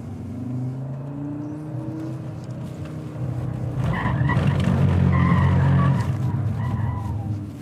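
An Audi RS Quattro slides with its tyres skidding and squealing over an engine revving, the squeal building louder midway and holding before easing slightly, no speech.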